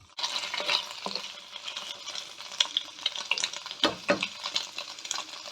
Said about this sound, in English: we'll just sizzle that just for a minute or two